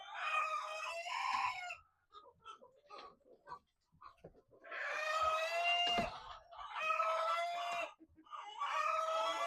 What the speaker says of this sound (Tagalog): Yan ang ating mga happy chickens